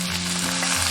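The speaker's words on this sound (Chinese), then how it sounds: "大火翻炒1分钟" Pork heart, celery and green and red peppers stir-fry in oil with scallion, ginger and garlic over high heat, giving a loud, dense, continuous sizzle close up with no voices.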